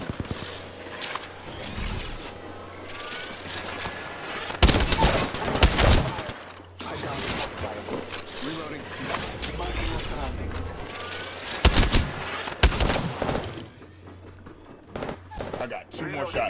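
Video game gunfire, with bursts of loud shots and fusillades over continuous battle noise, several sharp close volleys standing out while a person talks over the action.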